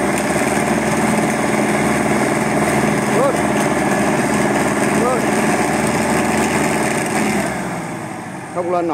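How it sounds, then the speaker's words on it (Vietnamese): A loud Belarus 825 tractor engine runs steadily up close, a rough continuous rumble that drops off and fades near the end, while hauling cassava on sinking ground. "Đầu nổ máy, phi ác nổ máy lấy hơi các bạn"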